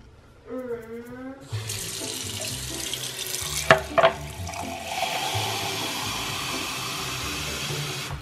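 Water runs from an indoor tap into a cup in a steady, hissing stream, with a few clinks partway through and a faint tonal squeak just before the flow begins.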